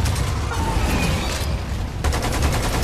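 Continuous rapid automatic gunfire in Lost Planet 2, a loud, dense rattle of shots that persists without pause, with a sharper burst of fire toward the end.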